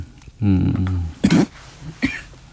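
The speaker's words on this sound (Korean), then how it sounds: "예, 기침하셔도 괜찮습니다" One person coughs a few times close to the microphone, first a voiced throat-clearing cough, then two sharp, short coughs.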